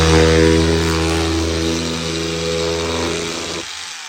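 An old, never-used cordless electric knife runs with a loud, steady motor whine as it saws through anti-knock hardboard sheeting, then cuts off abruptly near the end.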